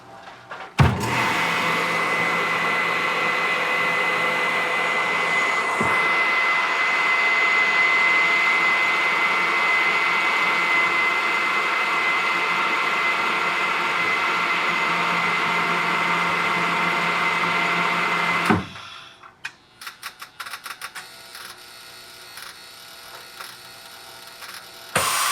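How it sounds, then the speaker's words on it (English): A sous vide vacuum sealing machine runs with a steady, loud motorized whir for about seventeen seconds, then stops with a click, leaving scattered faint handling noises. "Lay them in the cavity of our sous vide machine."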